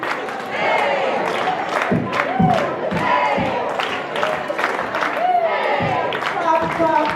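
Crowd at a Martin Luther King Day tribute in Danvers, with rhythmic group clapping in repeated beats under loud shouting, chanting voices and cheers from a lively gathering.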